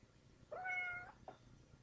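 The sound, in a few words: cat meowing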